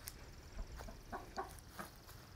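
Chickens clucking quietly inside a coop, a few soft scattered clucks and short calls at close range over faint background noise.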